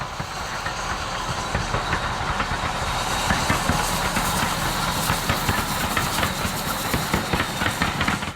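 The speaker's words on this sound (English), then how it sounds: "I think that's the steam train coming" A steam train rolls past close by in open countryside near a river, a steady loud rumble with rhythmic clicking and clanking from the wheels and carriages, sustained throughout with no talking.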